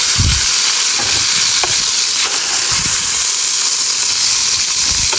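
A rib-eye steak fries in a hot pan with garlic and rosemary, giving a close, continuous hiss and crackle. Low thumps from the pan recur every second or so, and no one speaks.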